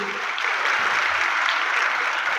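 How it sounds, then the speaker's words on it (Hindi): Loud, sustained applause from an audience at a Hindi-language official gathering, steady dense clapping filling the whole moment with no pauses. "मैं चाहूँगा बहुत ज़ोरदार तालियाँ बजा करके"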